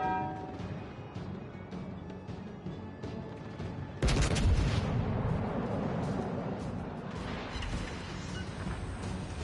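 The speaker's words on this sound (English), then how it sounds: "Now I'm gonna showcase the deadly accuracy of these guns." Warship main guns fire in World of Warships Legends, a sudden loud booming salvo breaking over a rumbling background, followed by lingering crackling echoes and distant blasts.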